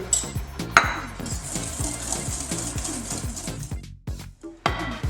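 Egg yolks are being mixed with sugar in a bowl for a gluten-free chocolate cake, with a steady rapid scraping and clinking rhythm of the utensil against the bowl, close and continuous, briefly pausing near the end.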